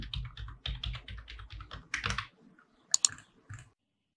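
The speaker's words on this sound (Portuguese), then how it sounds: "E aí você vem aqui e vai digitando seus dados." Typing on a computer keyboard while entering personal details into an online form: quick bursts of clustered key clicks for about two seconds, then a pause and a few sharper, louder isolated taps, close and clear with no talking.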